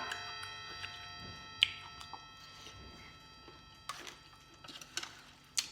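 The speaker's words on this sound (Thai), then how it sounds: "ของแท้ต้องมีเสียงนาฬิกา" A clock ticks steadily at a moderate level in an indoor kitchen setting, with a faint continuous hum and light clinks in the background.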